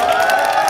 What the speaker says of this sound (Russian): Аплодисменты, дамы и господа!